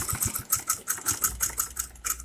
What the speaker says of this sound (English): Then I will sew it all the way down